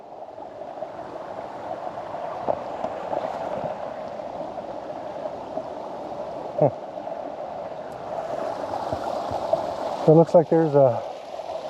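Small creeks along the Inside Passage keep up a soft, continuous trickle and rush in the background while someone talks over it, with a few faint knocks and splashes near the end.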